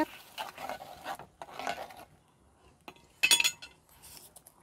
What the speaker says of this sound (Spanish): Voy a revolver.